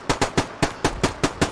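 Rapid bolt-action rifle fire in Squad on the Fallujah map, seven sharp shots in quick even succession, close and punchy with no talk over them.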